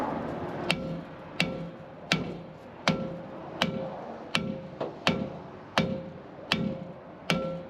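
Regular metallic hammer blows on old car brake drums ring out about once every three-quarters of a second, each strike sharp with a brief clanging ring.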